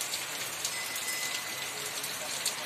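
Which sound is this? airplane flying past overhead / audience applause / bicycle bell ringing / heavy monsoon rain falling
heavy monsoon rain falling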